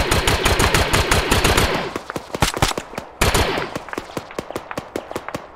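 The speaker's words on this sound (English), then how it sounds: "where are we taking shots from?" Rapid automatic gunfire in the military shooter Arma 3, a dense burst of shots for about two seconds followed by a string of sharp, separate single shots and short volleys, loud and close with no talk over it.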